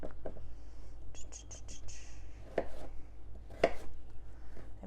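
A knife cuts through peeled beets on a board, producing a series of distinct chopping knocks, some quick and clustered, others spaced apart, with soft low speech underneath.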